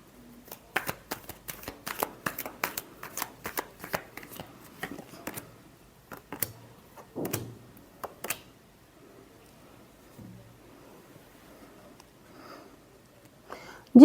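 Tarot cards are shuffled during a weekly horoscope reading, producing a dense run of crisp riffling flicks and slaps for about eight seconds. Quieter handling follows, with faint soft movement and silence.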